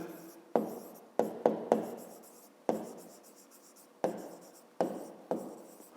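Pen writing by hand on paper while working a fifth-grade maths exercise, heard alone and close: a series of short scratching strokes with sharp onsets and quick decays, separated by brief pauses.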